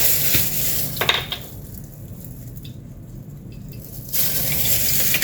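Frozen butter and olive oil sizzling in a pan, a steady soft hiss that dips quieter midway, with a few light clinks of a utensil against the pan.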